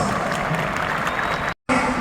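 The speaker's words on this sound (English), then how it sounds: "give your hand a big round of applause" Applause rises from a large crowd at an arena event, steady dense clapping that drops out briefly near the end and then resumes.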